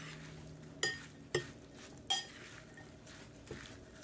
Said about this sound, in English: I'm just mixing this really well to get all the flavors in.